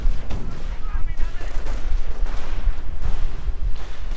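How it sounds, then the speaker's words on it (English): Snipers fire shots during a 2v2 match of a strategy video game, with sharp reports scattered through dense, continuous battle noise and low rumbling. "firing off a few shots, getting some poor bastard"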